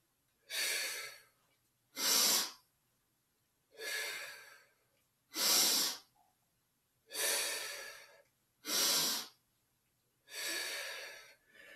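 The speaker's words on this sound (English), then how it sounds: "Breathing is controlled." Controlled breathing during a martial arts exercise: seven strong, evenly spaced breaths about every one and a half seconds, close and loud, with silence between them.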